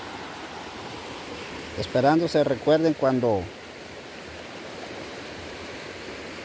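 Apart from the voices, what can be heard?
rising river floodwater rushing during a storm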